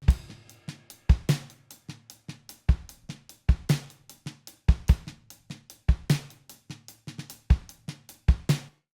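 A mixed album drum recording with kick, snare and overhead cymbals plays a steady groove. Punchy kick hits and sharp snare cracks repeat in an even pattern, loud and close, with cymbal wash between the hits.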